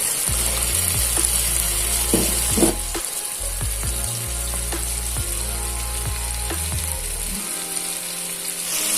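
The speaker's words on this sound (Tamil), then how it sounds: "நல்லா எண்ணெயில நல்லா ஒரு வாட்டி வதக்கி விட்டுக்கலாம்" Field beans, brinjal and drumstick sauté in hot oil with a little turmeric for a dried fish kuzhambu, giving a steady loud sizzle broken by scattered knocks and scrapes of stirring.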